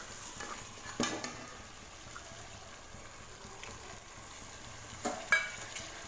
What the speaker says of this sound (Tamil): தக்காளி சேர்த்துட்டு இதை நல்லா மிக்ஸ் பண்ணி விடுங்க